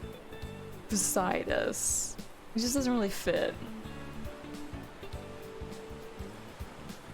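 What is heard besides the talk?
ocean waves, tide ambience in video game Please Be Happy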